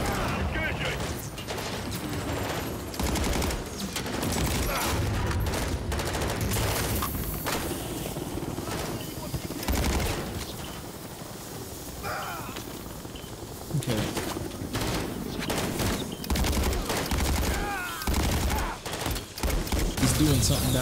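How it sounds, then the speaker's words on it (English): Gunfire aimed at a helicopter in the video game Modern Warfare III, sustained automatic bursts and thuds mixed with mechanical clatter and a rotor-like rumble, with radio voices speaking over the fight. "All Bravo, put fire on that helo."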